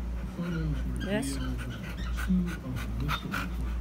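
A dog pants rapidly and lets out high whimpers and yips, close and clear, while people talk and shout over it.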